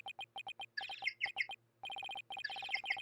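Repeated bright bird-chirp tweets ring out as a phone ringtone in the Ace Attorney video game, in quick rhythmic bursts with a short pause partway through, clear and alone.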